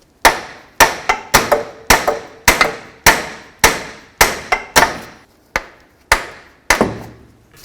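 Hammer blows driving a CV axle out of a 2006-12 Ford Fusion's front passenger-side carrier bearing, about a dozen sharp metallic strikes in a steady, fairly close rhythm with short ringing decays and no talk.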